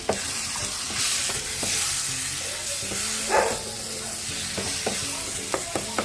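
Onion, garlic and tomato frying for eggplant bharta, a steady close hiss of sizzling oil with scraping stirs and small clatters of a spatula against the pan, no talking.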